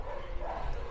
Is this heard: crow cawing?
no